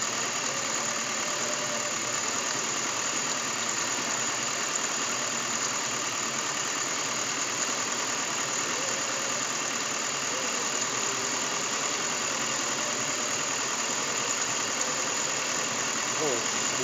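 A Suzuki Escudo fitted with a Kijang 5K carburetor idles steadily at close range, giving a continuous even engine hum with a faint rattle as the RPM is adjusted.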